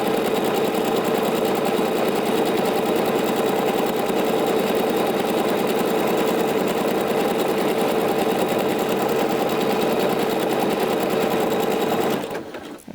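A sewing machine runs loud and continuous while stitching a blouse or dress, a steady close mechanical whir that stops abruptly at the end.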